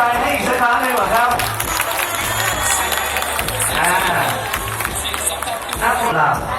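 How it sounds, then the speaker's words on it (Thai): A crowd claps and cheers at an evening boat procession during a Buddhist festival in Surat Thani, Thailand, a loud continuous wash of applause and shouting with voices mixed in. "จะไม่ปรบมือเป็นกำลังใจให้อีกสักครั้งหนึ่งหรอครับ"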